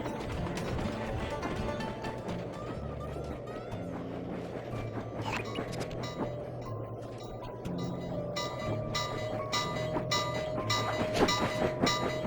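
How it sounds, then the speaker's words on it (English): Train rumbling and rattling past in a video game, a steady mechanical clatter with clicking wheel noise lasting throughout, loud and close, with no talk over it. "Oh, you can die by the train."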